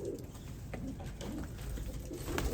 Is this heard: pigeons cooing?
yes